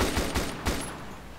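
Rapid automatic gunfire from an M249 machine gun in the video game DayZ Epoch, a short burst of several loud overlapping shots with a booming tail, heard alone.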